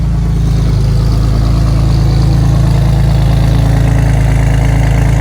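A vehicle engine found in storage idles loudly and steadily up close, a continuous low rumbling throb with no talk.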